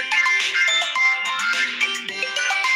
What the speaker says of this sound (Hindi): कॉल देख लेता हूँ भाई, कॉल आ रहा है भाई।